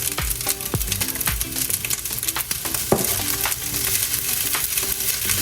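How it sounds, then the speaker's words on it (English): Steady crackling sizzle of hamburger fried rice with egg frying in a hot pan, close up, with occasional scraping stirs over the constant spatter. "And that sizzling's good. That means either the egg's cooking"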